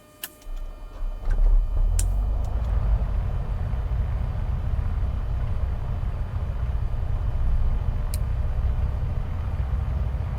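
A light aircraft's piston engine catches after a few brief clicks and settles into a loud, steady, low droning idle near 1,000 RPM, close by and continuous with no talk.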